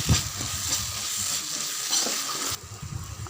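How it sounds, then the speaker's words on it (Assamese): Garlic and ginger frying in hot mustard oil in a home kitchen, a steady close sizzle broken by a few stirring scrapes, with no talk. "ইয়াতে দি দিলোঁ নহৰু আৰু আদাখিনি তাৰপাছত অলপমান ভাজিম"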